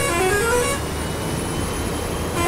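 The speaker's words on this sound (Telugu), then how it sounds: "బుర్రపాటు సౌండ్ అయితే అదిరిపోయింది భయ్యా." An APSRTC sleeper bus horn in a driving simulator game sounds two loud, sustained multi-tone blasts, one at the start and another at the end, over a constant engine and road hum.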